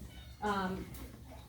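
A cat lets out a single short meow close by during a cleaning of shelter cat cages, with quiet background noise before and after.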